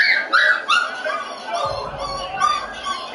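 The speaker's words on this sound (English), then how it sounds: "Got a puppy behind me, squealing." A puppy squeals and yips in a series of high, whiny cries close by, loud at first and then continuing under low background noise.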